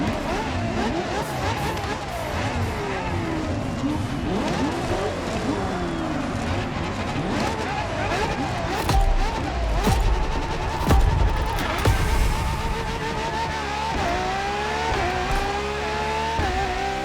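Ferrari LaFerrari hybrid supercar in The Crew Motorfest, engine note rising and falling through gear changes with tire squeal, loud and continuous under a voice talking throughout.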